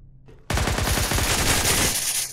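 Automatic gunfire from the tactical shooter game Ground Branch, a loud rapid burst of shots that starts sharply after a moment of near quiet and runs continuously for about two seconds.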